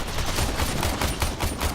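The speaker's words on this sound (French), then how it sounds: "Donc un petit fusil d'assaut, voilà, hop, on tire un peu partout, c'est marrant." Rapid automatic fire from an assault rifle and machine gun in the video game Warframe crackles continuously and densely for under two seconds, loud and close, with no pauses between shots.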